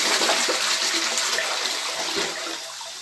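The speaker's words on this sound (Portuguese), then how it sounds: "Vou dar uma descarga aqui para vocês verem." Toilet flush after unclogging: a loud, steady rush of water swirling through the bowl for about three seconds, easing slightly near the end, with no talking.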